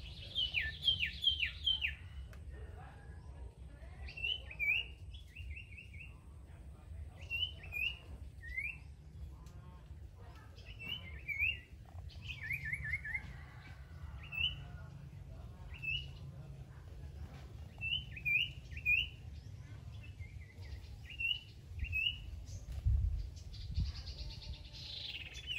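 Songbird calls out in the field, repeated short bursts of high chirping trills spread through the clip over a steady low rumble of wind and background noise.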